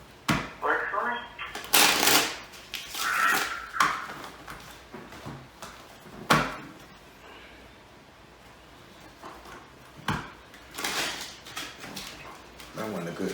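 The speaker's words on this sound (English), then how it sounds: "That wasn't a good shuffle, but they still caught." Tarot cards being shuffled close by in rustling, snapping bursts, with quieter handling between them.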